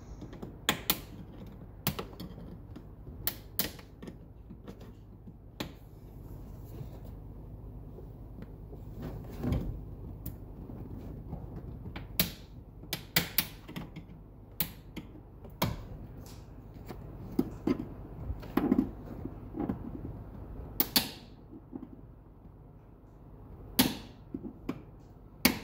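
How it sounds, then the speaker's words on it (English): Plastic trim clips are pried loose from the back lid of a 2018–2021 VW Passat, giving sharp, sporadic clicks and snaps over a faint background, close and fairly quiet, with no talk. "And now once I remove the other three plastic clips"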